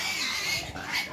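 Pigs oink and squeal continuously at a busy outdoor pig market in Ibiapina, Ceará, a loud, close, dense chorus of grunting animals.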